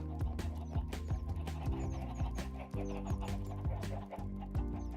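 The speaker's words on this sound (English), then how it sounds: "The chickens." Chickens cluck repeatedly in the video game Minecraft, short clipped calls scattered over a busy backdrop of other game sounds and thumps, at moderate loudness, with no talking.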